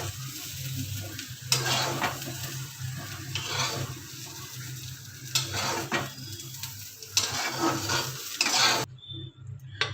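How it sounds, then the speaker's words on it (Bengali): Fried cauliflower and potato pieces are stirred and scooped from a hot pan in repeated scraping strokes over a steady, close sizzle, with no talking. "বন্ধুরা দেখুন আমার ফুলকপি আলুটা খুব সুন্দর করে ভাজা হয়ে গেছে, আমি এবার তুলে নিচ্ছি।"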